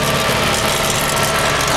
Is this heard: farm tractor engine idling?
yes